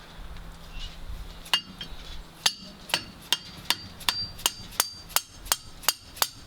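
A hammer strikes a pickle fork ball joint remover wedged against the rusted-solid piston of a 1950s Massey Harris 35 tractor engine: a faint start, then about a dozen sharp metallic clinks in an even, quickening rhythm, close up.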